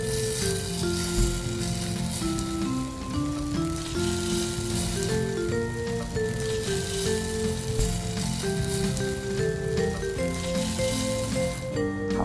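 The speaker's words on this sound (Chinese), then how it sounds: "两面给它煎上色" Shrimp noodle cakes fry in a pan until golden and crisp on both sides, giving a steady, even sizzle that carries on continuously beneath background music.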